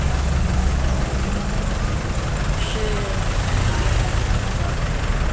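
A large intercity bus, apparently from Aceh, rumbles with a steady low engine drone at a terminal, with a faint hiss in the middle, over continuous background noise.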